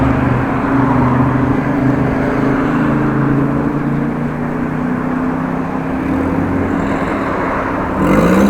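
A yellow car drives by on a street in Groningen, its engine a loud, steady rumble close by that swells and then shifts near the end as it passes.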